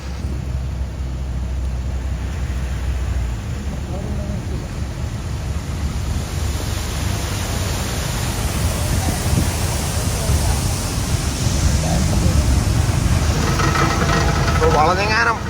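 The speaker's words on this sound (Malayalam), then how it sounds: "മേളിലൊക്കെ ഭയങ്കര മഴയാണ്, ഒന്നും കാണത്തില്ല" Heavy monsoon rain pouring steadily on a vehicle during a drive, a dense continuous wash of noise with engine rumble beneath, and people talking over it.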